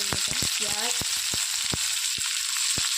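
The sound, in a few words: cumin and mustard seeds frying in oil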